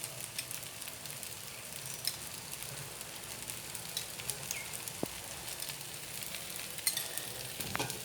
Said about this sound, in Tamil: தோசை ஊற்றிடுச்சு மேலே எண்ணெய் போட்டுக்கலாம்